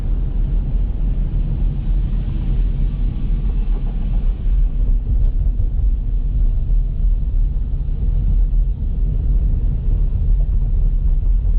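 Steady low rumble of a car driving along a Toronto road, recorded from a dash-mounted GoPro, with continuous engine and road noise and no talking.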